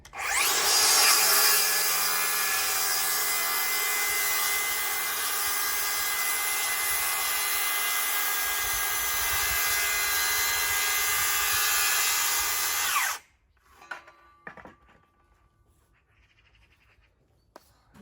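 Dewalt DCS573 cordless circular saw ripping a board lengthwise, a loud, steady whining cut held for about thirteen seconds before it cuts off abruptly, followed by a few faint clunks.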